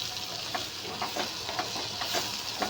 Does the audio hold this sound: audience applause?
no